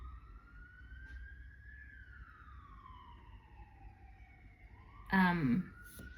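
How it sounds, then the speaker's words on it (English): A police siren wails in the distance at a crossroads, its pitch slowly rising and falling over a low traffic rumble, then a brief loud burst of noise cuts in. "you can probably hear that siren"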